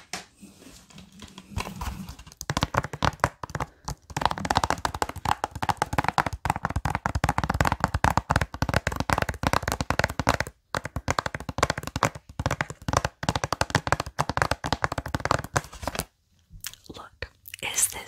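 Rapid fingertip tapping on hard objects for ASMR, close and crisp, comes in dense irregular bursts with brief pauses, while a soft whispering voice runs underneath.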